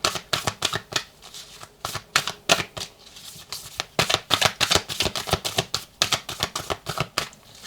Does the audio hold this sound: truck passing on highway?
no